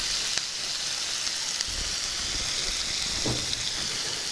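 Soaked chana dal tossed into a pan with already fried onions, giving a steady, even sizzle that holds level throughout with a couple of faint clinks.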